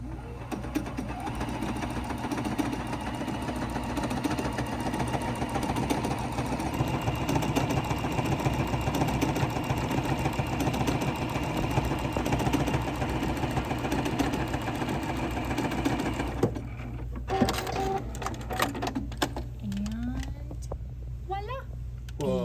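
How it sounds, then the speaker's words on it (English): A Juki F600 computerized sewing machine runs steadily through decorative stitch patterns, a continuous close mechanical whir with rapid needle rhythm for most of the stretch before it slows and stops near the end. "I'm gonna do a couple more stitch outs just to show you some cool decorative stitches that we have."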